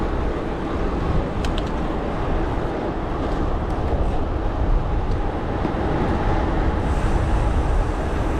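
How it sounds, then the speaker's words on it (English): Passing train heard from a road bike, a loud, continuous broadband rumble and roar that fills the whole stretch without letting up. "Train!"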